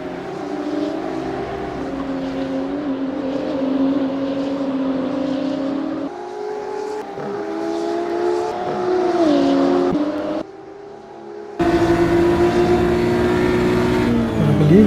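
BMW M2 CS race cars in a sim racing cup at Tor Poznań, engines droning loud and steady with shifting pitch as they rev and change gear, briefly dropping away before surging back.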